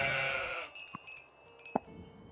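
A couple of short, soft sheep bleats sound over quiet, airy ambience in the video game Old Man's Journey, separated by a pause.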